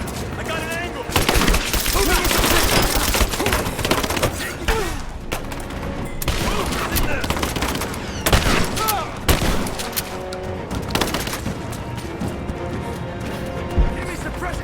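Enemy suppressing gunfire in the action game Rise of the Tomb Raider, a loud, dense fusillade of rapid automatic shots and impacts that continues without letup, with voices calling out over the shooting.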